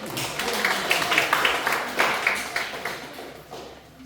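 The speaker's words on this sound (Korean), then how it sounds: "저한테 박수 3번 맞춰주세요." An audience at a church praise service claps in unison, a few sharp rhythmic bursts in a reverberant room over a faint background murmur.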